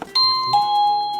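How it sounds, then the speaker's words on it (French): A video intercom doorbell chime rings on its indoor unit, two clear bell-like tones following one another, close and loud with no talk. "Voilà, donc ça c'est la sonnette, c'est elle."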